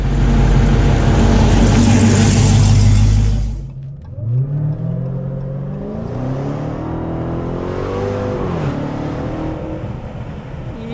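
A 2020 Dodge Charger Hellcat Widebody roars hard under full throttle while driving, then drops off and settles into a rumbling climb through the gears, loud and close.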